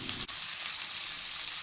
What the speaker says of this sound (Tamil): உள்ளே போட்டு அதுவும் ஓரளவுக்கு வதங்க விடுங்க நல்லா எண்ணெயில்